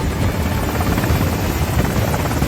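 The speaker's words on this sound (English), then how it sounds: "Langston rushes to a helicopter with Carla and David already inside" Helicopter in an action film, its rotor and engine roaring loud and steady throughout with a dense, continuous chopping drone and no voices.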